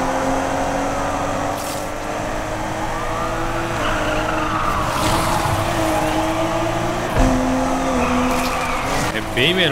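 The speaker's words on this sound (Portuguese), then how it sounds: "fazer drift no manual, bem melhor" Mitsubishi Eclipse GSX drifting in the Need for Speed Unbound video game, with a steady engine drone and tire squeal during a police pursuit, a siren-like wail rising and falling while talk runs over it.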